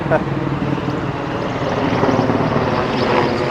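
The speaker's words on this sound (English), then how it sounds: "military helicopter" A loud, droning rumble of a military helicopter passing overhead along the Hudson River Greenway in New York City, sustained throughout with a faint voice in the background.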